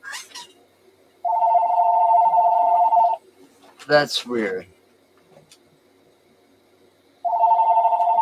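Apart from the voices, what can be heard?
mobile phone ringing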